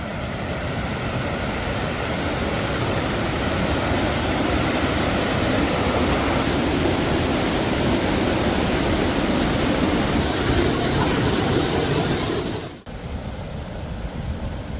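Water rushes in a steady, loud, continuous roar that briefly dips near the end before resuming.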